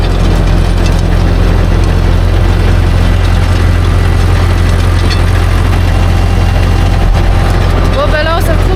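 A tractor engine runs steadily at close range while sowing rapeseed, a loud continuous low rumble with vibration that does not let up, with a brief squeaky sound near the end.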